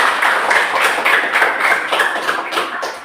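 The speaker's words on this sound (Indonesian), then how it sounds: "Oke, silakan berikan tepuk tangan." A school class clapping during a teaching lesson: a short burst of many hands clapping close by, fairly loud and steady, tapering off toward the end.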